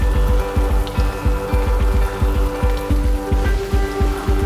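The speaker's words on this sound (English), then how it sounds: "Rain patters on the shed's plastic roof." Rain drums on a shed's plastic roof in a steady, loud, close patter with a regular low thudding pulse beneath a dense hiss.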